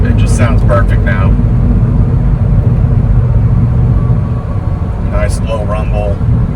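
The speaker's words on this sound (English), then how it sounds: "we put Flowmaster exhaust on it, Flowmaster mufflers I should say, and it just sounds perfect now." Steady low engine and exhaust rumble from a pickup truck with Flowmaster mufflers, loud and continuous, with voices talking over it at the start and end.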